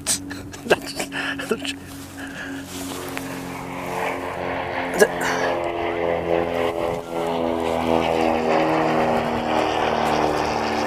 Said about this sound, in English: There must be an airfield nearby. It's an awful lot of aeroplanes.